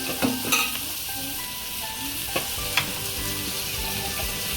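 Chopped onion dropped into fried masala in a pan, bursting into a sizzle with a few sharp clatters and stirring scrapes, then settling into a steady close frying hiss.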